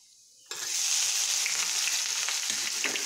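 Onions hit a pan of hot oil with asafoetida and toasted cumin, bursting into a bright, steady sizzle that holds evenly for a few seconds, close and fairly loud with no talking.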